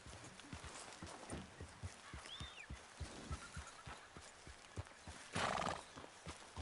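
Horse in the Red Dead Redemption video game trotting with steady rhythmic hoofbeats, joined by a loud whinny midway, with the clip-clop continuing close and clear.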